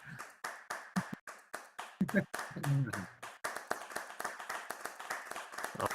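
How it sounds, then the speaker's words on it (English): Applause rings out for an artist showcase, quick sharp hand claps in a steady stream. A brief voice cuts in partway through, then the clapping carries on alone. "can we just get a giant round of applause for Creative Owls for putting this together?"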